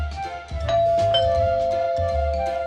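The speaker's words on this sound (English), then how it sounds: "They ring the doorbell" A doorbell rings at a schoolhouse door in a Sesame Street children's program: a steady, sustained electronic ding tone held over a low musical background, with no talking.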